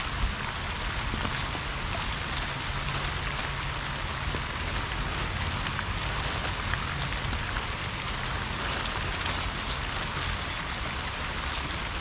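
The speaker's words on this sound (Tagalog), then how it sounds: "Umuulan." Steady rain falls outdoors as a dense, even hiss of drops that never lets up, loud and close, with no talk.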